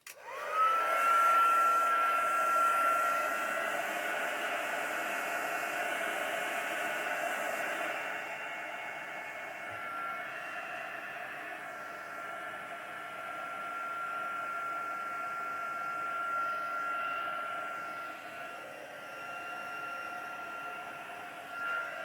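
A hair dryer blows steadily on handmade craft flowers, a constant close whooshing roar that holds for the whole stretch with slight shifts in tone, no one speaking.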